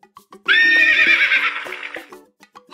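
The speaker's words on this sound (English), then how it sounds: "Horse." A horse lets out a loud, close whinny lasting over a second, rising and wavering, with a few soft thuds around it.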